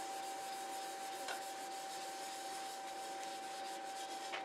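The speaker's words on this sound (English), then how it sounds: "Rub a liberal coat of it on there." Abrasive paste is rubbed onto a turned wooden piece on a lathe, giving a soft steady scratchy friction under a constant high machine whine, fairly faint.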